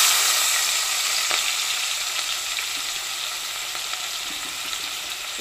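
Onions and green chillies sizzle steadily in a hot pan for a fish and vegetable curry, a continuous bright frying hiss with occasional small pops and stirring sounds, close and fairly loud with no talking.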